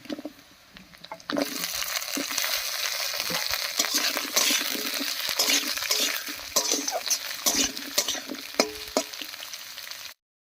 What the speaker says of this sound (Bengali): পেঁয়াজ কুচিটা লাল লাল হয়ে গেছে এবার এর উপরে দিয়ে দিচ্ছি কেটে রাখা আলু